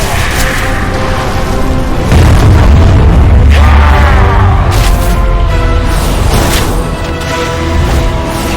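Loud, continuous booming blasts from area-of-effect attacks in World of Warcraft's Aberrus raid fight against Kazzara, the Hellforged. Heavy rumbling explosions roll one over another with crackling bursts and no pause between them.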